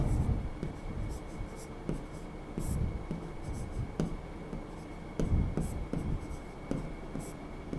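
A teacher writes notes on a board for a Class 10 science lesson on electricity, producing close, repeated scratchy strokes and taps in irregular bursts over a faint steady hum.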